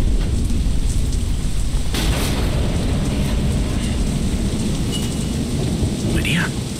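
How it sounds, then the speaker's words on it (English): Heavy rain pours steadily in a DeadLight game storm, with deep rolling thunder rumbling loud and close through most of the scene and a brief sharper crack near the end. "Storm."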